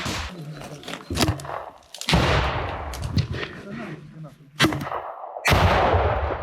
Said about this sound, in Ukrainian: Обстріли стали частішими.